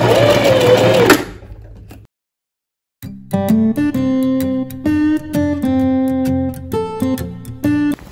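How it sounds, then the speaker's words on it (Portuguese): A domestic sewing machine runs a few stitches, reverses and stitches again to lock the seam on a puffed long sleeve with cuff, clicking and whirring in short bursts after a brief pause. "Retrocesso no início da costura"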